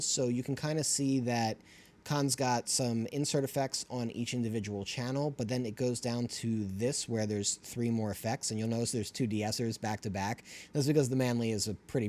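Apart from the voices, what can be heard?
None of the usual background noises is heard.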